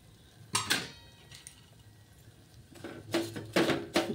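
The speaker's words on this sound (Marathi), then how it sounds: "शेवाळ्या भाजून घेते" Vermicelli roasting in a pan for kheer, stirred with a utensil that scrapes and clinks against the metal in two bursts, separated by a quieter stretch.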